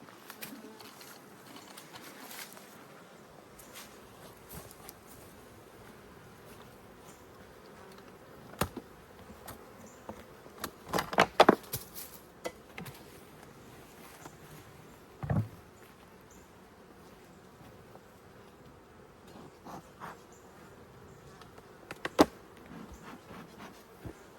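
Honey bees hum around an opened hive carrying two supers, a low, constant buzz near the listener, broken by scattered sharp clicks and knocks.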